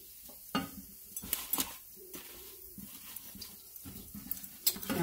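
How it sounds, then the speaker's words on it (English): Salmon patties lifted from a frying pan, with quiet scattered metallic clinks and scrapes of a utensil against the pan over faint background sizzling. "I'm going to go ahead and get my salmon out of the pan"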